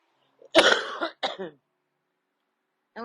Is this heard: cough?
yes